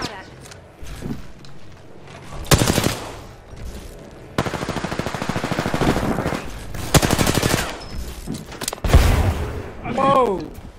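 Automatic and single gunfire in a squad-based shooter video game, with loud bursts of rapid shots in several volleys over a steady game backdrop, while a player talks in between.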